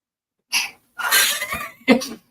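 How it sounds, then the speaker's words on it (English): A single sneeze from a woman: a quick sharp intake, a loud burst of breath, then a short follow-up puff, close to the mic in an otherwise quiet room. "I gotta sneeze"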